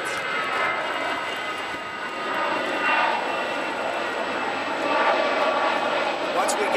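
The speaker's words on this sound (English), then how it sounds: "listen for the airplanes." Airplanes flying overhead make a continuous broad roar that swells and fades gently, steady at moderate loudness with no voices.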